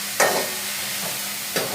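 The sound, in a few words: onions frying and being stirred in a pan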